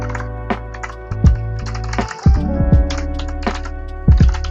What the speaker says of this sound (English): my typing's a bit off today, it's because I'm using a different keyboard.